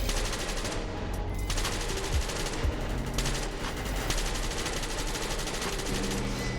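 A new LMG machine gun in SCP: Secret Lab fires one long, dense, continuous burst of rapid shots at a steady loud level for the whole stretch, with no talk over it.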